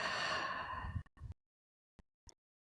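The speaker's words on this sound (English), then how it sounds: "You'll hear my breath because this will happen in my body as well" A long, steady breath during a beginner yoga sun salutation at home flows broad and loud for about a second. Two short puffs follow, then quiet with two brief faint ticks.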